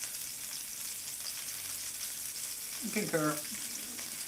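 Steak searing in a hot pan for a lunch of steak and eggs, a steady faint sizzle throughout with a brief louder burst of frying near the end, a voice speaking briefly under it.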